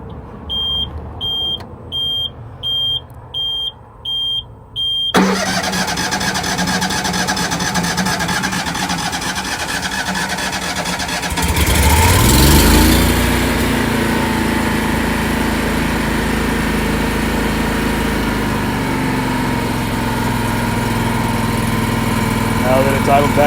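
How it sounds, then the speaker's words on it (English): A brand new Miller Trailblazer 325 EFI welder generator cranks over with a short whirring start, catches and revs up loudly, then settles into a steady idle close by; electronic beeps sound before the start. "that is the first start of a brand new Trailblazer 325 EFI"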